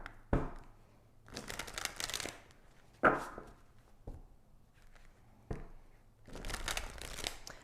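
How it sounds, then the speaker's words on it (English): A deck of tarot cards is shuffled close up, soft riffling and sliding bursts separated by sharp taps as the deck is squared, quiet and irregular with no talking. "Let me shuffle this last one more time."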